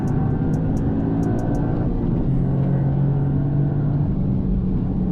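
A Toyota GR Yaris cruises a cooldown lap on a race track, its engine giving a steady, continuous drone with wind and road rumble and no hard acceleration.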